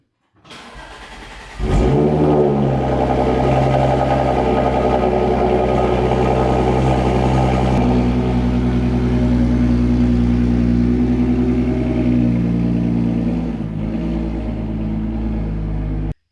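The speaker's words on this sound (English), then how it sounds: "let's get one last cold start for the boys here" Cold start of a widebody Audi S5: a short crank, then a loud bark as the engine catches and revs, settling into a strong, rumbling idle that dips slightly near the end.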